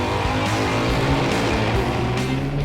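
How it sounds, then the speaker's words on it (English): A loud drag race car launches, its engine roaring continuously at close range, a dense, harsh mechanical blare with quick shifts in pitch as it pulls away. "Got a really loud drag car over there."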